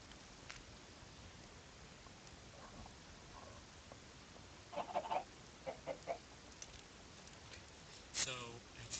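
Minecraft chickens cluck in short, scattered bursts over a steady hiss, fairly faint and a little distant, with a brief higher squawk near the end.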